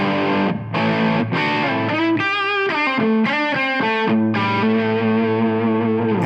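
Electric guitar run through a Tonex One pedal with an overdrive capture stacked on a Tube Screamer capture, playing loud, driven chords and single notes with a sustained, saturated tone and no talking.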